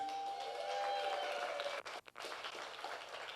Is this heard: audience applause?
yes